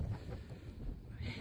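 Strong wind on a mountain summit in Trollheimen, Norway, rumbles and buffets the microphone in a continuous low roar with brief gusty surges.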